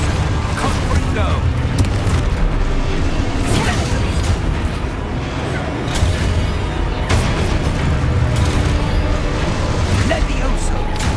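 Continuous booming spell blasts and bursts from combat in the Hogwarts Legacy video game, dense and loud throughout with repeated explosive hits layered over game sound effects and voiced spell shouts.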